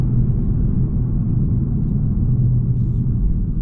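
A Genesis G70 3.3T AWD sedan's engine pulling hard past kickdown, a steady, loud, dense low rumble heard from inside the car, continuous with no voices.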